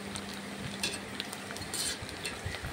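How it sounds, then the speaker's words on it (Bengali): Papad frying in hot oil in a kadai, giving a steady crackling sizzle with brighter bursts of spitting, heard up close with no talking. "পাঁপড় ভাজা গরম তেলের সঙ্গে ভেজে নিচ্ছি।"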